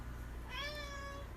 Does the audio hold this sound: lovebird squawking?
no